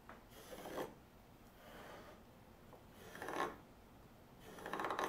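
A knife blade scoring a marked line into wood rasps in short repeated strokes, three or four quiet scraping passes spaced a second or so apart, close and alone without talk.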